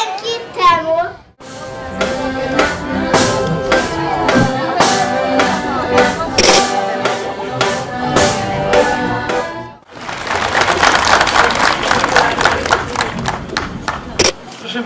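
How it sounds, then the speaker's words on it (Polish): Applause for dancers after a performance: loud music and percussion play first, then a dense burst of clapping and crowd noise swells for several seconds. "To wielkie brawa."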